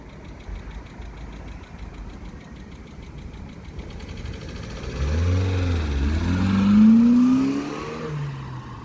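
A Vauxhall Astra H 1.4 SXi on its stock exhaust drives past: a low engine hum grows into a louder, rising engine note that peaks near the middle of the pass and then fades slightly, with no talking.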